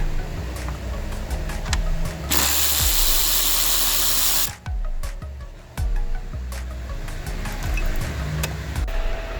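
A 10mm ratchet loosens the cooling fan bolts on a 2003-2007 Honda Accord 2.4L, giving close, repeated clicking and short metallic rattles with a loud broadband burst partway through.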